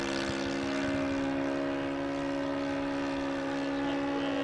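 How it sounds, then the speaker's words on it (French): The propeller engine of a model Demoiselle airplane drones steadily at close range in flight, a constant high-pitched buzz with strong harmonic tones and no talking. "un son qui est vraiment en correspondance avec ce que pouvaient être les moteurs de l'époque"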